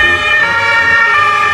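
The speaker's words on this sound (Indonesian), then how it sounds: "Wow, yang ini ambulans" A loud, continuous electronic toy ambulance siren wails close by, its steady tonal pitch sustained throughout.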